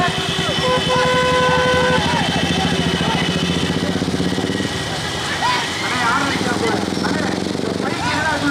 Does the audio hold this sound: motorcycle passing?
yes